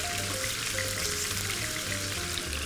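Salmon cubes frying in hot oil, a steady close crackling sizzle that holds throughout with a low hum beneath and no talk.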